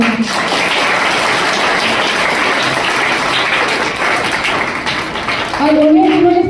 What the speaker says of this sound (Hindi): और हमारे जो बच्चे यहाँ प्रोग्राम किए हैं उन सभी के लिए जोरदार तालियां।